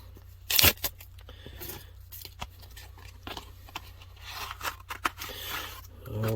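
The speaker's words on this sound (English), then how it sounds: "Let's open it up and see what I got." A thick mail envelope being opened up close, with a sharp tearing rip near the start followed by softer crinkling, scraping and paper rustling.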